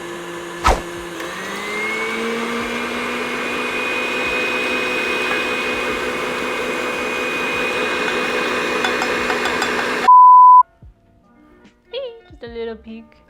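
An electric mixer runs at full speed, whipping sugar for candied pecans in a steady, loud motor whine for about ten seconds. It cuts off abruptly and a person starts talking.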